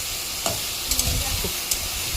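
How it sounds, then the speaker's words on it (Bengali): Swamp eel pieces fry in hot oil with salt and turmeric alongside browned potatoes, giving a steady close sizzle broken by a few sharp scraping stirs of the spatula; nobody speaks. "এখন কুচে মাছটা ভালো করে ফ্রাই করে নেব।"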